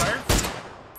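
Gunfire in a video game: a sharp, loud shot bursts in close, then rings out and fades, with no talk over it.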